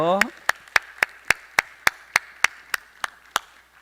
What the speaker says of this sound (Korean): 여러분 마음껏 축복의 박수 하겠습니다